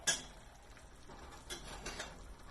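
A metal spoon scraping and clinking against a pot while scooping out soft cooked leeks, with a sharp knock at the start and a few lighter taps and scrapes after, close and fairly quiet.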